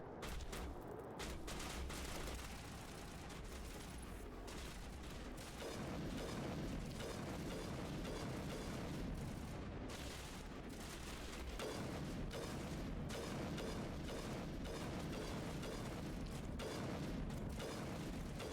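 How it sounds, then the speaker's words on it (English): Long-range sniper rifle firefight in the Mass Effect video game, with a steady barrage of sharp shots and mechanical clatter, some bursts stacking rapidly, continuous and loud throughout. "I'm shooting this Krogan. Long distance with my sniper rifle."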